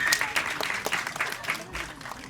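Audience applause at the Border 2 teaser launch event, a brief burst of dense, close clapping from a crowd, lively and uneven, lasting a couple of seconds.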